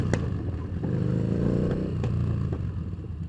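Yamaha Bolt motorcycle engine droning steadily up close as the rear wheel locks up and skids, a broadband rumble with scraping texture and a few sharp clatters, no talking.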